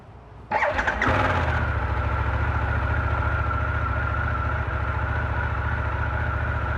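A Harley-Davidson CVO Pan America motorcycle engine starts with a brief crank and catches, then settles into a steady, loud warm-up idle that runs on evenly.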